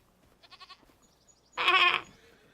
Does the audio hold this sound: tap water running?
no